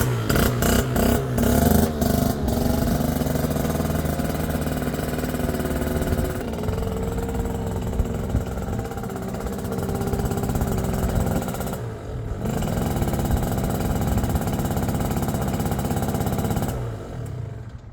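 A 70cc Yamaha Zip scooter engine with a Yasuni R exhaust runs loud and close, a dense buzzing drone with sputtering at the start and a brief dip midway, running rich.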